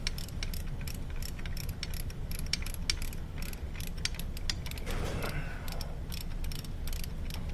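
A threadlocker-coated reverse light switch on a VW A4 manual transmission being turned out with a tool, giving steady small ratcheting clicks and creaks close up against a constant low background hum.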